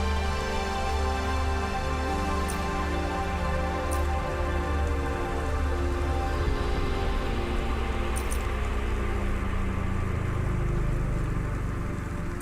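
Rain falls steadily in a city in the video game Cloudpunk, a constant dense patter layered over a low droning hum and a few faint high clicks, with no voices.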